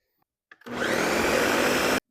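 Loud kitchen blender whirring through oven-roasted salsa ingredients with squeezed lime: a few clicks, then a continuous close motor roar for about a second and a half that cuts off abruptly.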